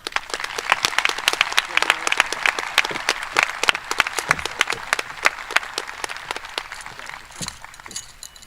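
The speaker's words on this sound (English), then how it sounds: "please give a huge round of applause for the Abington Heights class of 2025 valedictorian, Mara Pivarato." An audience claps for the valedictorian at the Abington Heights High School class of 2025 graduation ceremony, with many crisp individual claps heard fairly close, steady and lively throughout.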